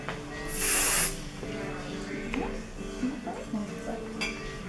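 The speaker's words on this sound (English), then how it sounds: "So you're just going to do a soft little spray." One short, soft hiss of hairspray from an aerosol can, then quiet rustling and faint clinks while someone talks.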